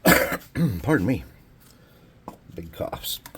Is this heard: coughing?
yes